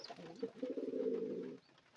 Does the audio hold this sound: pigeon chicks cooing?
yes